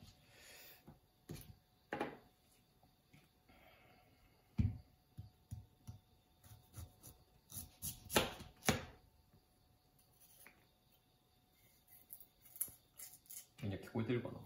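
A knife slices through a pear in a few separate crisp cuts spread across the moment, near and fairly quiet, with someone talking casually around them.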